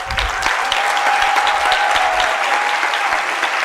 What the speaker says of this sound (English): let me just ask for a round of applause for Eric.